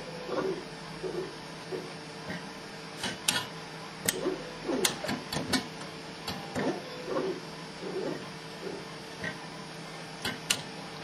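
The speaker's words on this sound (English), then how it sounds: "So it's going to go down, discover there's no disc in that spindle, rotate, and move to the next spindle." R-Quest robotic disc arm in a multi-drive disc changer moving between spindles, giving a run of soft mechanical ticks and clicks with a few sharper clacks, steady and close, with no talking.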